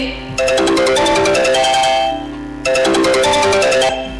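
Onstage during a Gujarati family drama at a community gathering, a loud electronic phone ringtone trills in two long, rapid pulsing bursts separated by a short pause, with no talking over it.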